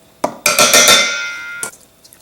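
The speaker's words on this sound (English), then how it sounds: "I washed the container with a little bit of water to make sure I got all of these spices." Tap water runs into and swishes around a container being rinsed out in a home kitchen, with a few clinks of the vessel and a short splash near the end, close and clear.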